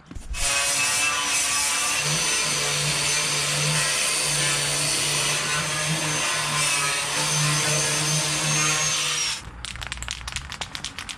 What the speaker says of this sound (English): I'm gonna hit it with the wire wheel real quick